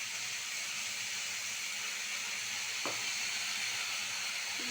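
Spice paste hits hot oil in a pan while cooking okra with fish roe, giving a steady, close sizzle with one brief clack partway through.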